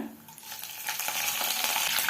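Hot oil sizzles and crackles steadily close by as curry leaves splutter in it, a busy spluttering hiss that grows slightly louder over a couple of seconds.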